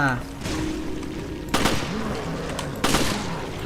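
Two gunshots fired in the video game Resident Evil Revelations 2 during a fight with a flying armed enemy, sharp loud blasts about a second apart over game background sound, with someone talking.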